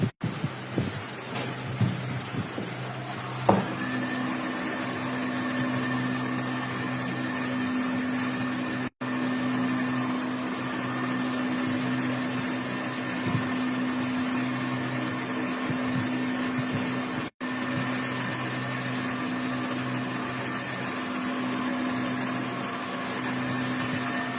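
A hot oven baking Turkish pide, running with a steady electrical hum and a whirring fan drone that kicks in after a few seconds of clatter and holds level throughout.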